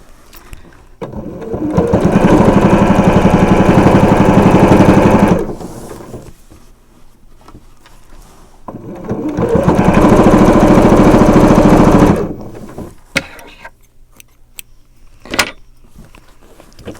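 A sewing machine stitches a straight binding onto fabric, running in two long steady bursts of about four seconds each, separated by a pause, followed by a few light clicks and handling noises.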